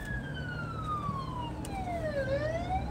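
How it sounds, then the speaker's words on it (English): An ambulance siren wails in a long sweeping tone that falls and then rises again, fairly loud and steady over a low rumble of road traffic. "Oh, the ambulance."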